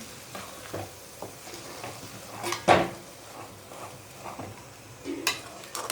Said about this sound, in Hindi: अब हम इसको कम से कम 10 मिनट तक सिम फ्लेम पे फ्राई करेंगे।